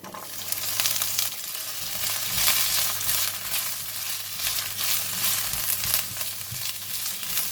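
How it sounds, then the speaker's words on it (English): Garlic and kailan stems fry in a hot pan with a continuous close crackling sizzle that swells and eases as the food is stirred. "We're going to fry the garlic until light brown and fragrant. Alright, when the garlic is brown, I'm going to put in the kylan stem."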